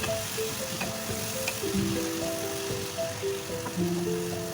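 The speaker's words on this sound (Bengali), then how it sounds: "দিয়ে আবার আমি ভালো করে কষাচ্ছি" Chicken and egg pulao with garam masala being sautéed in a pan, a soft continuous sizzle with light stirring, fairly quiet, while music runs over it.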